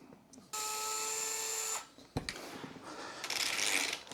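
Plastic shock reservoirs being worked off a Losi LMT RC monster truck, heard as a close whirring tool burst with a steady tone, then sharp clicks and a rough scraping, grinding rattle, with no talking.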